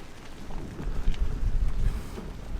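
Wind gusting around a sailboat secured at a mooring line in a current, a rough low rumble of buffeting air rising and falling steadily throughout, close to the microphone.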